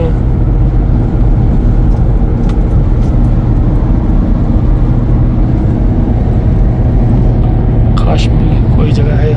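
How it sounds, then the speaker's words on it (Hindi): A bus driving fast on a road gives a loud, steady engine drone and road rumble heard from inside, with people talking over it throughout. "बस बहुत तेज चला रही है"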